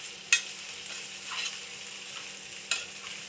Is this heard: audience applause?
no